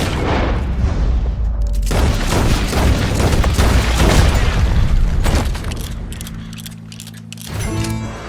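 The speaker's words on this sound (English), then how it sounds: "He shot the thing!" A gunshot in the western game Red Dead Redemption 2, a heavy booming blast amid dense rumbling game noise, fading into quieter ambience with a faint tone near the end.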